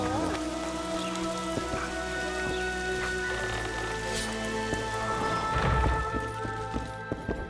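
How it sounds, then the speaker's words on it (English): Steady rain falls in the video game The Witcher 2, a continuous soft patter of drops on surfaces with faint footsteps and light clatter mixed in, no talk. "Rain."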